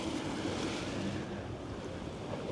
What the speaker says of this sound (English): when sun's out like this and you listen to waves